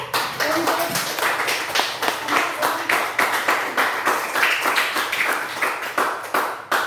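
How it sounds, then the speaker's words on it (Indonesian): A classroom of students claps their hands together in a dense, steady burst of sharp slaps lasting several seconds, fairly close and loud with no voices over it. "Berikan tepuk tangan dulu."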